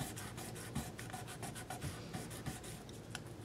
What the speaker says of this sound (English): just go along and hit these frets with a little sandpaper to shine them up